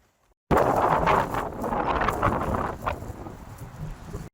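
Strong wind in Iskenderun buffets the microphone in loud, rushing gusts after a brief moment of silence, easing slightly toward the end.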